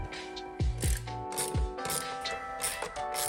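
A ratchet with a 5.5mm socket backs out screws on a Jeep JL switch panel, giving close, crisp clicking bursts separated by short pauses, with no voices.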